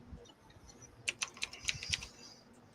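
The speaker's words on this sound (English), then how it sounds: "she's typing it up" Someone types on a computer keyboard in a burst of quick, soft key clicks, faint and somewhat distant against low room noise.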